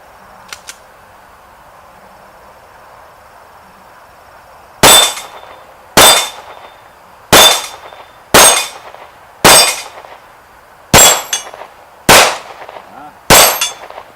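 Eight loud, sharp gunshots from an H&K P30 handgun, fired one at a time at roughly one-second intervals, each with a brief ringing tail, after a few seconds of quiet room tone.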